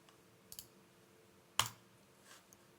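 Buttons clicking on a grandMA3 lighting console: a few light plastic clicks spaced apart, with one sharper press in the middle, close and quiet in an otherwise still room.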